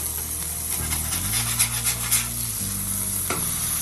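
Burger patties for a Cajun rum burger fry in a pan with a steady, close sizzle and a few brief scraping stirs, over a low humming tonal background.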